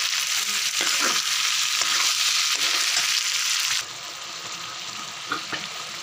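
Potatoes fry in a pan as the base for a mutton curry, giving a steady broadband sizzle with faint stirring clicks; the hiss drops noticeably partway through, then continues more softly with a couple of light utensil taps.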